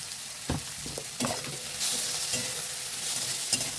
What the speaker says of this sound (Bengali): এবারে ভাজবো লাউ ভাগলার সঙ্গে মাছের তেলটা